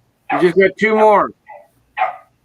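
A pet dog named Adelaide barks in short yips at home, mixed in between and around a person speaking nearby.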